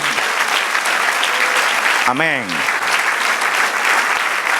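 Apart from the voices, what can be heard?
congregation applause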